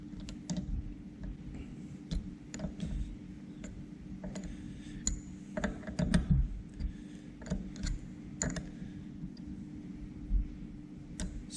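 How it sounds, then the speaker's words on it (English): Torque wrench clicking as the knife screws on a jointer's cutterhead are tightened, a string of small sharp ticks spaced out over a low steady hum, with a slightly busier cluster of clicks midway. "These guys are already snug, so now we're going to go ahead and torque them."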